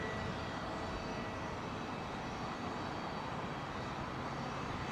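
Airbus Neo jet passing over at London Heathrow, a faint, distant, broad steady engine rumble that stays even across the short stretch.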